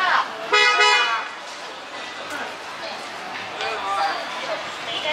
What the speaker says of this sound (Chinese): 我按喇叭会怎样？